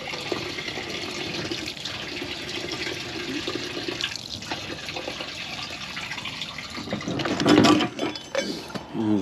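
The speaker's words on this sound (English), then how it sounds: "So what I need to do is try to get this gas out of here." Gasoline pours out of a 2003 Pontiac Grand Am fuel tank into a container, a continuous liquid splashing and trickling with a louder gush near the end.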